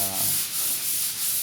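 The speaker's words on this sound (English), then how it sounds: "So he's sanding all the way from the other corner, and he comes this way." A bedroom wall is sanded with steady, rhythmic back-and-forth rubbing strokes, loud and close with a gritty, hissing texture and no talk.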